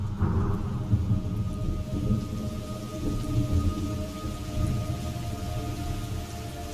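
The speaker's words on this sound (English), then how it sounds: "It's raining blood." Rain in Metal Gear Solid Snake Eater pours steadily over a deep, rolling rumble like distant thunder, a continuous storm soundscape with no voices.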